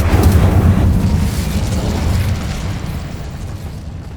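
A fire spell cast in the Hogwarts Legacy video game bursts out as a loud, booming whoosh of flame that starts strong and rumbles on steadily, with no talking over it.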